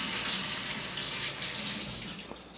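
Organic artichokes are rinsed under a running kitchen tap, a steady, close, continuous splash of water that eases off slightly toward the end.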